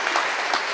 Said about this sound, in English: she gets a roaring applause as she comes out of the game